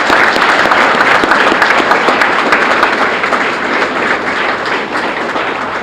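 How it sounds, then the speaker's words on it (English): Loud, dense applause from an audience at an awards of merit ceremony fills the whole stretch, holding steady and easing slightly near the end. "So let's give Mr. McKinley a round of applause."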